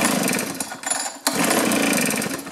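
A hard-starting 2-cycle engine on a trimmer, blower or chainsaw sputters briefly to life during a pull start. It gives a loud, close, raspy buzz that dips for a moment before picking up again.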